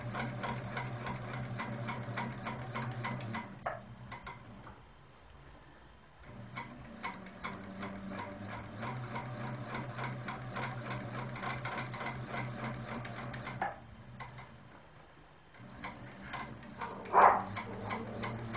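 A sewing machine stitches in the ditch along the seams of a quilt block, its needle ticking rapidly and evenly in several long runs separated by short pauses.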